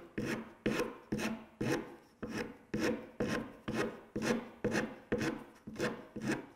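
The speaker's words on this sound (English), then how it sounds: "I'll clean it up a little bit with some sandpaper" Sandpaper rubbed over a wooden rocking chair part in steady back-and-forth strokes, about nine rasping passes at an even rhythm, close and clear with no talking.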